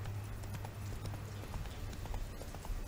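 Horse hooves clip-clop at a steady rhythm in The Witcher 3 video game. The hoofbeats are quiet and sit under a low background rumble.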